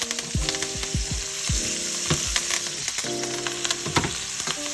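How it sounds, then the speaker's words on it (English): Mangalitsa Red Waddle cross pork chops cooking with shallots in butter that is melting and foaming. A loud, close, continuous sizzle is broken by bursts of sharp spitting crackles, with no talking. "And then as that butter kind of melts down, kind of foams up a little bit"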